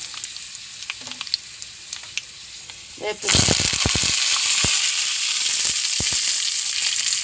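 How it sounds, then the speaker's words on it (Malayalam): Mustard seeds, dried red chillies and fenugreek hit hot oil after a few quiet clinks, bursting into a loud, continuous sizzle with sharp popping crackles that carries on to the end. "എണ്ണ ചൂടായി കടുക് ഇടുന്നു കടുക് പൊട്ടി കടു വറ്റൽ മുളക് ഇടുന്നു രണ്ട് മണി ഉലുവ ഇടുന്നു"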